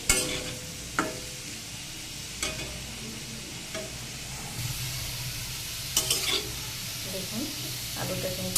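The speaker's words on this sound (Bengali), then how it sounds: "দেখুন আলুটা কিন্তু আমার বেশ ভালো করে ভাজা হয়ে গিয়েছে।" Potatoes fry in oil in a blackened wok, with steady sizzling broken by several sharp scraping stirs of a spatula spaced through the clip, close and moderately loud, no voices.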